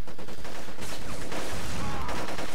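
Gunfire from the video game Black played on PS2, a dense burst of rapid shots and booming blasts filling the whole stretch, loud and close with no talk over it.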